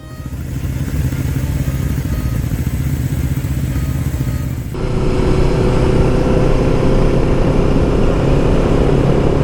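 A Honda CB750 chopper motorcycle engine drones steadily while riding, loud and close, with a rise in pitch and intensity partway through as it accelerates.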